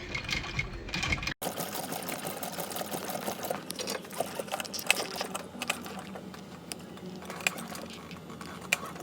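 A sewing machine stitches brown oxford material with a steady, fast mechanical whir and needle clatter, close and continuous, with small clicks on top.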